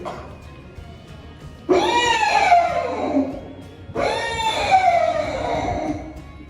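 A person imitates a horse neighing at a senior citizens' association gathering, two long, loud whinnying calls that fall in pitch, separated by a brief pause.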